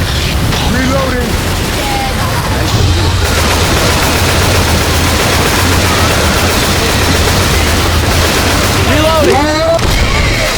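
Continuous game gunfire from Left 4 Dead 2 on the Cold Stream campaign, dense and loud throughout the whole stretch with explosive booms and scattered high electronic chirps over a low rumbling bed.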